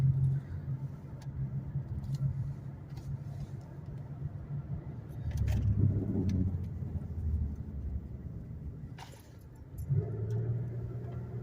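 A 2008 Buick Lacrosse CX with a 3.8 L engine rolls along the road, its steady low rumble and tyre noise swelling briefly midway, then dipping and returning near the end.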